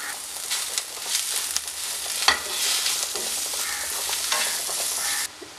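Sliced tomatoes sauté in sardine roast masala with onions in a Kerala-style pan, giving a steady close sizzle broken by a few scraping stirs, and it cuts off abruptly near the end.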